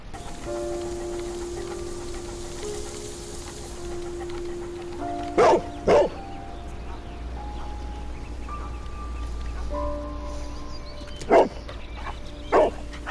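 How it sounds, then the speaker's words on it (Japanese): A dog barks in the Sherlock Holmes: Crimes and Punishments video game: two sharp barks near the middle and two more near the end, set against steady rain and a low ambient drone. "急に犬入ってきたらびっくりするでしょ"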